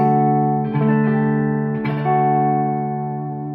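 Sustained, ringing clean electric guitar chords through a tube amp's clean channel with treble up and bright switch on, a bright, chiming top end, played loud and alone, changing chord twice.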